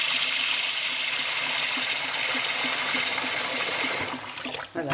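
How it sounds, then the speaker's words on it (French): Cold tap water gushes steadily into a dish of sushi rice in a kitchen sink, a loud, continuous close-up pour that slackens toward the end as the flow is disturbed. "j'ai mis de l'eau froide tout simplement, je viens remuer"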